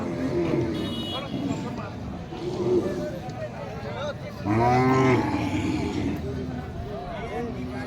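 Large cattle at a village market, one giving a single loud, drawn-out moo in the middle, with crowd chatter and background bustle throughout.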